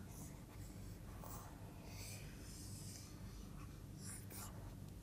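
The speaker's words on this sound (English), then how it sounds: "I will basically try to erase this." Eraser rubbing across a lecture-hall board, several short scrubbing strokes heard faintly through a constant room hum, with no talking.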